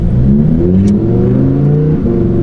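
A loud V10 Lamborghini sports car engine revs hard and continuously, its pitch climbing and wavering as the throttle is pushed.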